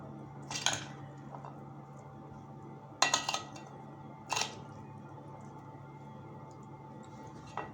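A spoon clinks against a bowl as tamarind pulp goes into chana chaat: a few separate bright metallic taps, spaced seconds apart over a quiet kitchen background.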